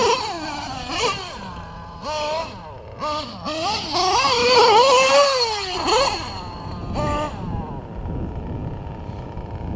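A nitro RC truggy engine running outdoors, with a high, buzzing whine that rises and falls through several revs at close range, plus wind noise and some rumble.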